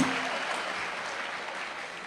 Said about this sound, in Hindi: जरा तालियां वालियां बजा दो ताकि मैं अगले कवि को पेश कर सकूं।